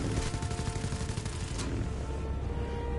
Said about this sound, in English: I think the cannon might just be a machine gun.